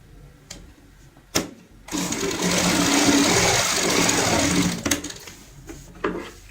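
A sewing machine stitches a fabric strip onto a cushion cover, starting with a sharp clack and then running in a loud, steady whir for about three seconds before stopping, with a few handling clicks on either side.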